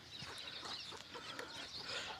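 A hen with her newly hatched chicks on a farm in Saudi Arabia gives soft, faint clucks, with light peeping mixed into the quiet outdoor background.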